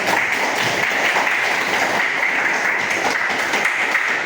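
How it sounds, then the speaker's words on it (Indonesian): A classroom of vocational high school students applauds together, a steady, dense clapping that fills the room at close range without pause. "tepuk tangan untuk semua."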